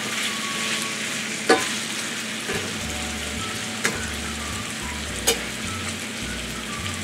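Potatoes and onions fry in oil in a pan, giving a steady close sizzle. A few sharp scraping knocks from stirring cut through at intervals, and a low hum runs underneath.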